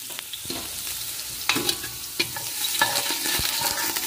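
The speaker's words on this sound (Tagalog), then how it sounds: "Linagyan na po ng mantika. At ayan guys, ilagay na po natin yung bawang." Garlic hits hot cooking oil in a pan for a sauce and sizzles loudly and continuously, with a few knocks and scrapes of a stirring utensil on top.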